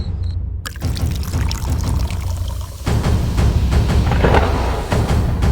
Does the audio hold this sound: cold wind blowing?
no